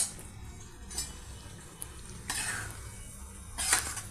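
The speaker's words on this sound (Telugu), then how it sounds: "ఇప్పుడు ఆ రైస్ని ఈ టామరెడ్ జ్యూస్ అండ్ పోపు మసాలాలో యాడ్ చేస్తున్నామండి" Cooked rice being stirred into tamarind juice and tempering masala in a pan for pulihora, with soft scraping and a few sharp spoon clinks against the vessel, close and quiet.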